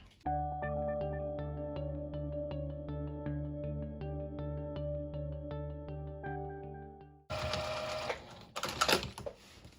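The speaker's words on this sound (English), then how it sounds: "So now I'm just going to sew right down the edge." A sewing machine stitches bias tape along the edge of a quilt with a steady, close whirring hum and rapid, even needle ticks for about seven seconds, then stops and gives way to rustling fabric handling.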